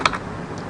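A couple of quick keystrokes on a computer keyboard while typing a CSS font-family property into a web editor, with crisp close clicks and no voice.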